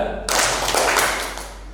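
Hands clapping together in a 'tepuk 1 2' ice-breaker clap pattern, a loud dense burst of claps that starts abruptly and fills the rest of the moment, with no talk over it.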